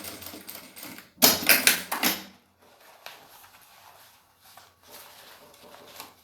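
A sewing machine whirs in a short, fast rattling burst, stitching a zipper seam on a fabric pouch, followed by quieter intermittent clicks and handling noises.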